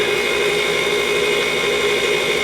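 Electric mixer whirring steadily through cheesecake batter with a dash of salt and a cup of sugar, a constant loud motor drone with no breaks.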